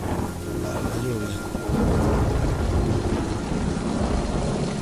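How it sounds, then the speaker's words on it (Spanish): Video game rain pours down heavily while a deep rumble of thunder rolls in and swells partway through, loud and enveloping, in Mind Path to Thalamus. "Vale, la lluvia"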